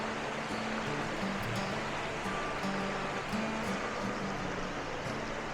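A small waterfall spills into a shallow stream a couple of feet deep running over rocks, giving a steady, close rushing wash that holds even and continuous throughout with no voices.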